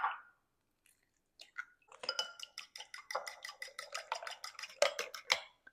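Two eggs being lightly beaten in a separate bowl for low-carb garlic cheddar biscuits: a brief clink, then a rapid run of quick, even taps of a utensil against the bowl, fairly close and with no talking.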